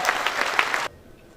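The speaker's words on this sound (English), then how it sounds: "Let's give her a round of applause." An audience at a builders' conference opening ceremony gives steady, dense applause with distinct claps, which stops abruptly after under a second, leaving quiet room tone.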